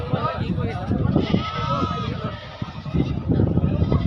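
Goats and rams bleating at a large livestock fair, repeated calls from several animals nearby amid crowd noise and people talking.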